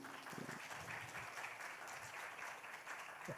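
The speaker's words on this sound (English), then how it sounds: "please give applause Bu Harni Ningsi" Applause for a presenter at an online English language teaching conference, a steady, even patter of clapping heard faintly through a stream, with a brief low voice near the start.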